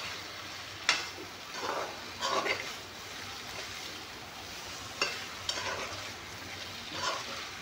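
Meat frying in a pan with potatoes and pumpkin, a soft continuous sizzle broken by a few sharp stirring scrapes and clinks of the utensil against the pan, moderately close and quiet, with no talking.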